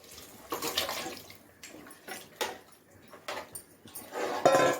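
Boiled goat leg stock is poured into a pan, giving irregular splashing and gurgling bursts of liquid, close and moderately loud, with no talking.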